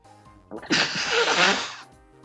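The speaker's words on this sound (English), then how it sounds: "sneezed again" One sneeze, close and fairly loud, a quick intake followed by a burst lasting about a second.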